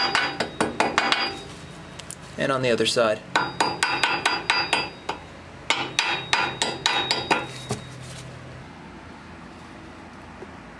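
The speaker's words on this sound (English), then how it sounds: "Then I just finish staking it down with a hammer." Sharp metallic hammer blows struck in quick bursts, staking down a metal tab on a 1994-97 Honda Accord steering rack, ringing off metal, with a brief voice in between and a scraping rasp midway.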